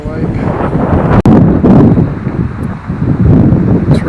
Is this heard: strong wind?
yes